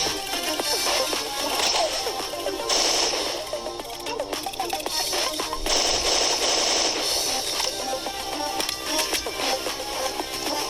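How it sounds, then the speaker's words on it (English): Rapid bursts of video game gunfire, a continuous machine-gun clatter with whip-like cracks, ring out through a Friday Night Funkin mod cutscene, dense and loud for the whole stretch. "this scene I'm about to show you is where Deimos gets shot in the back"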